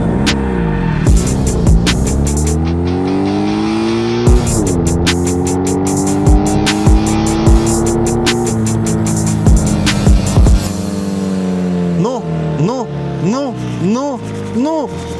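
A modified Ural motorcycle engine revs hard through rising gears, loud and close, its throbbing note climbing and dropping at each shift, then sweeping past near the end.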